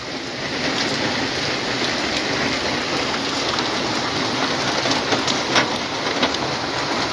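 Heavy morning rain pours steadily in Cumilla, heard from inside a house as a dense, even hiss that stays constant throughout with no voices.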